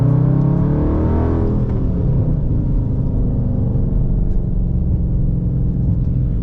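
A 2019 Dodge Charger R/T with the 5.7 V8 rumbles steadily from inside the cabin while driving, a deep continuous drone that swells briefly as if easing onto the throttle, with no talk.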